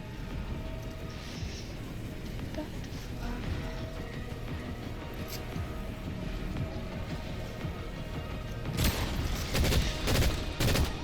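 Rapid gunfire in an online shooter video game crackles as dense, continuous bursts beneath a constant loud roar of wind and engine-like rumble, with sharper volleys toward the end.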